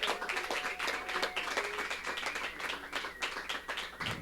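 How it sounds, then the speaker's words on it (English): Scattered clapping from a small crowd at a garden open mic, fairly faint, with a few whoops or tonal sounds mixed in briefly. "Another round of applause for Brenda B."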